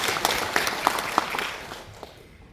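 Audience applause fills a hall at a city festival evaluation meeting, a dense patter of clapping with a few sharper claps standing out, fading gradually toward the end.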